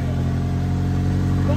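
A car engine runs steadily while driving on a highway, a loud continuous low hum with a constant tone throughout.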